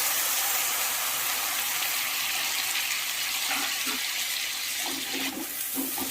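Water from ground spice paste is poured into a pan for a Bengali rohu and pointed gourd fish curry, a continuous rushing, gushing pour heard close and alone.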